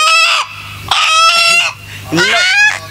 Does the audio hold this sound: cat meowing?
no